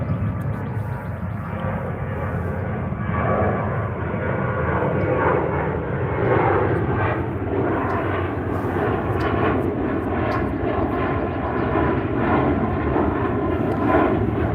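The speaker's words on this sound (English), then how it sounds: "I'm going to let the plane pass and then continue." A fixed-wing airplane passes overhead, a loud continuous broad engine roar that holds steady and slowly shifts in tone over about fifteen seconds, with no talking.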